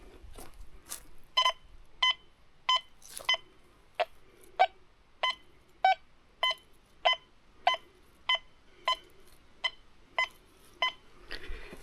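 Repeated short electronic beeps from a Quest X10 metal detector detecting a target at 25 centimetres, about a dozen in a steady rhythm with a faint background hum, close and clear.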